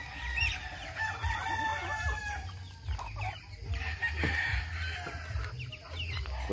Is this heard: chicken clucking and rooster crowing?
yes